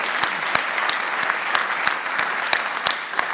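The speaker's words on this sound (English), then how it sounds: "can we give her a round of applause and thanks for putting this together?" Steady applause from an audience at a school honors night, dense and continuous with sharper individual claps standing out, filling the whole stretch without any talk.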